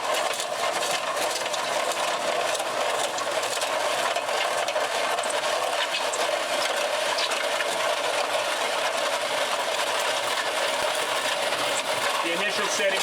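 A Mudmixer machine runs with a dry, stiff mix, giving a loud, continuous mechanical roar and rattle that fills the whole stretch, with a voice faintly present underneath.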